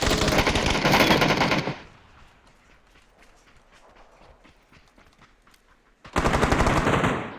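Gunfire in a video game, loud dense bursts of rapid shots at the start, a quieter stretch with faint clatter, then another loud burst at the end.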